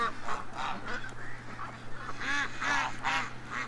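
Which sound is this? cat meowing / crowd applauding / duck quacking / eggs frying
duck quacking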